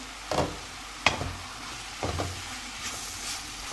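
Spring roll vegetable filling with soy sauce is stirred in a pan over the heat, with three or four separate scraping stir strokes over a soft background sizzle and no talk.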